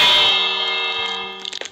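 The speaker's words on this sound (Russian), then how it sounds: "Я тут поставил колокольчик." A bell in the Minecraft video game rings once with a bright metallic clang that decays slowly over more than a second, loud and close, followed by a few soft game sounds.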